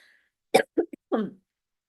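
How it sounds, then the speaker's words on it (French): A short run of harsh coughs, three or four quick bursts close together, then quiet. "j'ai pas de souffle à cause de ma toux"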